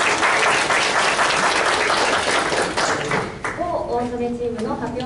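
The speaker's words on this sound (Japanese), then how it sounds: "それでは皆さん拍手で始めてまいりましょう" Audience applause at a Tsukuba ideathon final presentation day, a dense wash of clapping that fills the opening seconds and then thins out as a voice begins speaking over the tail.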